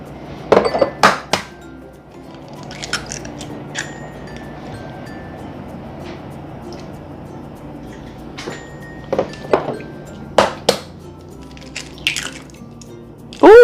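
Egg shells cracked against a bowl rim while baking banana muffins in a home kitchen, several sharp clinks and cracks scattered across a quiet room, with small drips and a soft clatter near the end.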